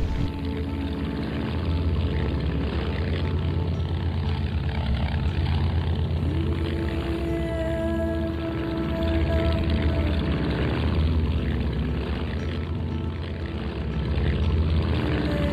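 The propeller engine of a Mudry CAP10 aerobatic plane drones continuously in a flight simulator, a loud, steady buzzing hum with slight shifts in pitch as the aircraft flies around the field.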